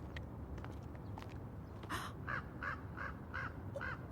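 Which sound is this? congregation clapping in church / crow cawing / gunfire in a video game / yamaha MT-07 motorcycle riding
crow cawing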